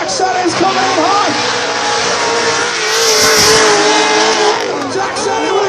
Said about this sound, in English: Luke Fink is putting foot to floor.